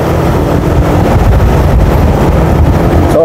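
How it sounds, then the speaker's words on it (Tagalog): Strong wind buffets the microphone continuously during a Philippine individual cycling time trial on an uphill route, a loud, steady low roar with no talk. "Grabe ang lakas ng hangin."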